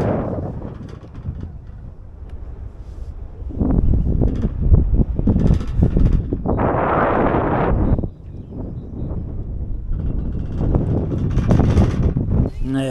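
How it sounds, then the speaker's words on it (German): Strong wind buffets the top of a lookout tower, roaring across the microphone in loud gusts that rise and fall, with someone talking at times. "Je höher ich gehe, desto windiger wird es."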